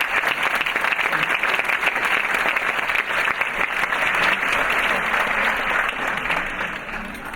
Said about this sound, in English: Let's have a round of applause for our faculty.